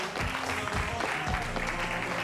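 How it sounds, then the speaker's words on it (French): An audience at a French-language show claps steadily in a continuous wash of applause, fairly loud and even across the whole moment, with no distinct voices standing out. "On applaudit pour Jalen."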